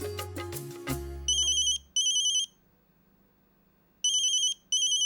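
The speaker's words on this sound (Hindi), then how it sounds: "ये इतनी रात को किसका फोन आया?" A telephone rings late at night with a bright electronic ringtone, preceded by a short musical sting, then two-part ring bursts repeating with gaps, loud and alone.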